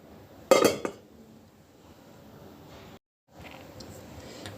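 A dish of marinated chicken gets covered, with a bright clink of a lid or plate against the bowl followed by a second smaller knock, then quiet kitchen room tone.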